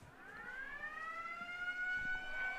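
A long, steady electronic siren-like buzzer wails at half-time of a touch rugby match at the Pasifika Touch Cup in Australia, fairly faint and distant, sustained and slowly rising in pitch, with no talking.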